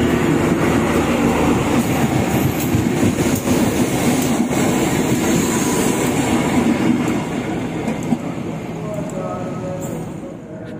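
Jayabaya passenger train running on rails, a loud steady rumble with continuous wheel-on-rail roar close by, easing slightly toward the end.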